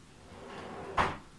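A kitchen drawer, one of three deep 35 cm drawers in a small organised kitchen, slides with a soft rumble and then shuts in a single brief knock, close by, with no voices.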